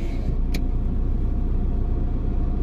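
Car engine droning steadily on a road at night, a constant low rumble with a brief sharp click near the start and no voices.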